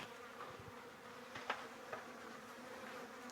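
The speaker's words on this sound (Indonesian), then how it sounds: "Nampak banyak lalat di dalam sini nih." Flies buzz steadily inside an old gold mine at Whroo, Victoria, Australia, a close continuous drone with a few louder passes near the listener.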